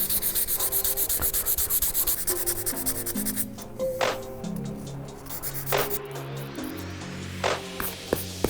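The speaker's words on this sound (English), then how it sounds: "using some 800 grit sandpaper and 2000 grit sandpaper, is smooth down those areas before we can start painting" Steady rubbing scrape of 800 and 2000 grit sandpaper smoothing the midsoles of Air Jordan 4 Bred sneakers, continuous strokes up close that loosen into irregular rubs with a few sharp ticks toward the end.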